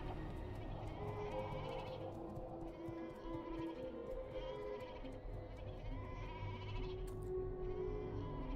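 Sheep in the video game Wuthering Waves bleat repeatedly and clearly, several wavering calls spread over steady in-game background music and ambience.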